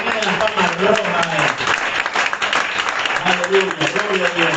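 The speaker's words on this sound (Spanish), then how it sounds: "Y es un aplauso para Dios que le tiene las palmas rojas" Church congregation applauding during a pastor's Bible study: sustained hand-clapping from a crowd, with voices and tonal sound mixed in and carrying over the clapping throughout.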